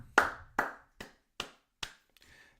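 Five slow, evenly spaced hand claps ring out close and crisp, with a faint rustle trailing after the last one.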